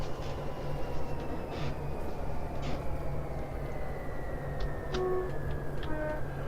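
A train in Train Simulator 2018 on the Medway Valley Line rolls along with a steady rumbling drone, rhythmic wheel clicks and faint distant tones, with no talking.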